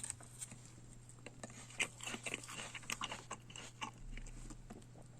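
Crisp crunching bites and chewing of an apple, close and quiet, a run of irregular crackly crunches over a faint steady hum.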